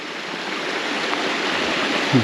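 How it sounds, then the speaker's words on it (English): Steady rushing of falling water fills the air, a constant broadband roar with no voices. "Oh, there's our first scenic waterfall of the day."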